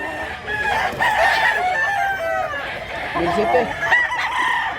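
Roosters crow repeatedly nearby, mixed with clucking from other chickens, a steady chorus of fowl calls filling the yard at a gamefowl farm in Mantalungon, Cebu.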